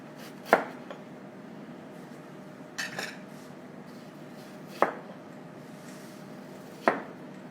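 Kitchen knife working through a watermelon being cut and peeled for salsa, four sharp chopping knocks spaced about two seconds apart over a low steady room hum, close and fairly quiet, with no voices.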